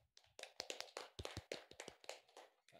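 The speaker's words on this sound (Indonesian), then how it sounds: "tepuk tangan" Hands clapping in a church youth gathering, a loose run of sharp claps from a small group, fairly close and uneven in rhythm, with no talking.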